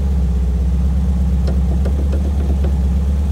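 A brand-new Porsche 356 Speedster replica idles just after a cold start, a steady close low-pitched engine rumble with a few faint clicks and ticks over it, no voices.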